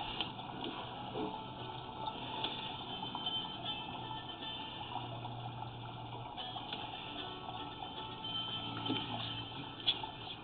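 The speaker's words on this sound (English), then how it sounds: "I need to let this water drain out." Steady rushing of water draining from a sewer pipe, a continuous gushing flow at moderate loudness with no talking.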